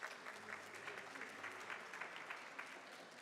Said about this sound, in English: Let's give her a round of applause, ladies and gents